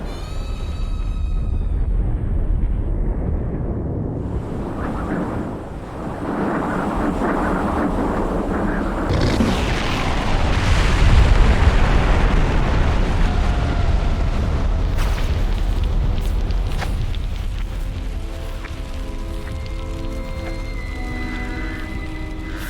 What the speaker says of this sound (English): Next comes the blast front.